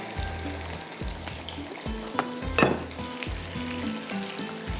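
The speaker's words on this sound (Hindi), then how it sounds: "इसको फ्राई करते हैं।" Fries cook in oil that is not very hot, with soft bubbling sizzle under repeated low thuds and clatters of a utensil against the pot, and one louder splashy burst midway.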